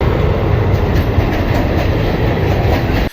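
Train rolling along the reopened Malatya–Gölbaşı–Narlı–Nurdağı railway line after earthquake damage, a loud continuous rumble with clattering wheels on the track, close by and unbroken, with no voices.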